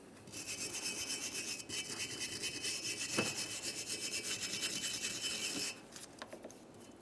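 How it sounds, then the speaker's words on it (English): Wire brush or sandpaper scrubbing a brake rotor on a 1994-1997 Honda Accord, a steady rhythmic close rasping rub for most of the clip, ending in a few lighter strokes. "You can use a wire brush or some sandpaper."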